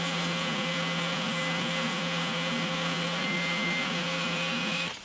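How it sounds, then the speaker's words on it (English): A belt sander shaping a piece of cherry wood into a small handle, a steady loud motor whine with a constant grinding hum, running continuously and close before easing off at the end. "I've got this piece of cherry which I think will make a nice little handle, so I'm going to shape it on the belt sander."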